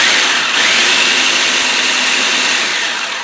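Kitchen appliance pulsing sugar with vanilla, a loud, steady motorized whirring that runs continuously for about three seconds without talk.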